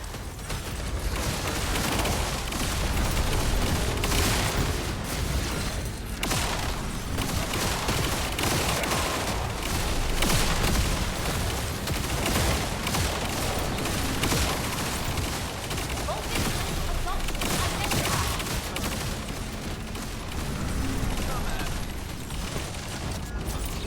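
Rapid automatic turret fire rings out in The First Descendant, a dense, steady stream of loud gunshots and booms lasting throughout, with game voice lines layered over the barrage.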